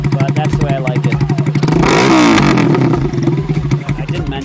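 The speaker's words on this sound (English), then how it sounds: "So this exhaust is quite loud, but that's the way I like it." A custom chopper motorcycle's loud exhaust thumps in a fast, close idle rhythm, then swells into a brief rev before settling back to a lumpy idle.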